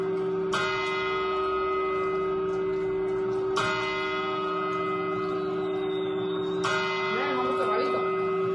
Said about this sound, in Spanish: ¡Campanadas!